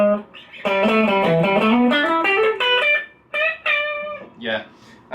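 A Supro Hampton electric guitar on its bridge pickup with reverb plays loud, bright sustained notes that bend and climb in a flowing run, then breaks into shorter choppy phrases separated by brief gaps.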